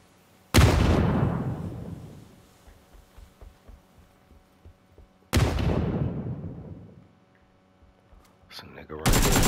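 Two loud single gunshots ring out in PUBG, each a sharp crack followed by a long decaying echo, the first near the start and the second a few seconds later, with another shot starting right at the end and faint game noise between.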